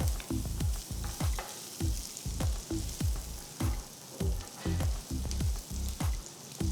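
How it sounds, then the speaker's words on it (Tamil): Three large finely chopped onions sizzle and fry in oil over a high flame for pav bhaji, with a steady crackle and repeated rhythmic scraping stirs of a spoon against the pan, close and fairly quiet, no talking. "மூணு பெரிய வெங்காயம் பொடியாக நறுக்கினது போட்டு அடுப்பை ஹை ஃப்ளேமில் வச்சு வெங்காயத்தை வதக்குங்க"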